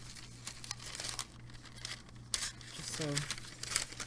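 Sticker paper being cut down to size for greeting card work, giving crinkly, crisp cutting and rustling sounds close by, with a person talking briefly over it.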